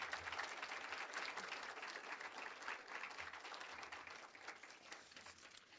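At a Salute to Women awards event, a crowd gives the honorees another round of applause, steady continuous clapping from many people heard at a distance and fairly quiet, slowly tapering near the end.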